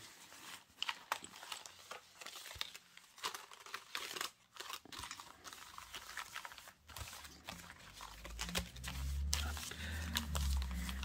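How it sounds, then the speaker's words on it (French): Three decks of cards being shuffled together by hand, soft rapid crinkling and riffling close to the listener, followed by a low rumbling handling noise. "je suis en train de mélanger mes trois paquets"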